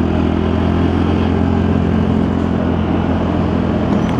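A Lexmoto Diablo motorcycle engine revs high and steady, loud and close, holding a constant roar throughout with no talking.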